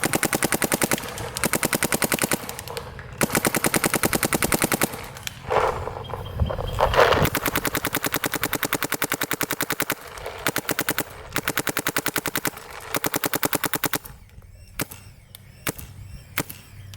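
Shocker AMP paintball marker firing in rapid bursts, loud and close, with rhythmic strings of sharp pops broken by brief pauses and a few single shots near the end.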